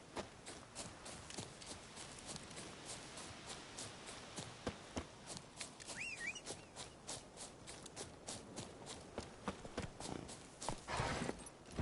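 Roach the horse walking in The Witcher 3, hooves clip-clopping in a steady, fairly faint rhythm of hoof falls across an outdoor ambience, with no talking.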